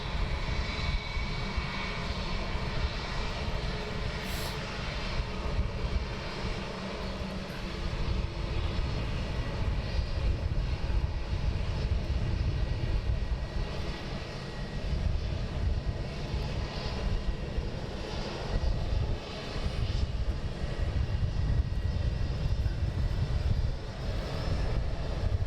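An aircraft landing or taking off at London Luton Airport makes a sustained, loud engine roar that fills the whole stretch with only slight swells, heard alone without talk.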